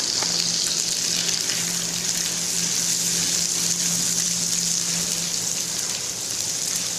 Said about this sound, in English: pour in the sliced stalks of broccoli.